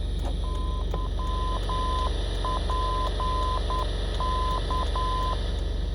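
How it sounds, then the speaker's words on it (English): A VOR navigation beacon buzzes steadily while repeated beeping tones spell out its Morse code identifier in evenly spaced groups, clear and continuous over a constant hum. "There is a buzzing sound which corresponds to the frequency of switching of those signals"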